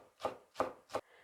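Knife chopping a bunch of homegrown green onions on a board, three crisp separate cuts about a third of a second apart, close and clear with no talking.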